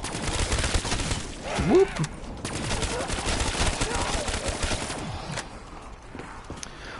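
Rapid, dense gunfire in Call of Duty Black Ops 3 Zombies, sustained automatic bursts at close range with game effects, while a voice calls out briefly over it.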